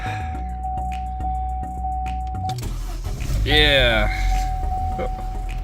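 A Vauxhall Corsa with an intermittent non-start fault cranks and fires into a rough idle, with a rattly timing chain noise over a low engine rumble and a steady whine, while a voice speaks briefly.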